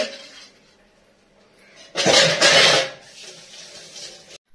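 Dishes and pots clatter in a home kitchen in one loud burst of clinking and scraping lasting about a second, set between quiet stretches with faint rustling.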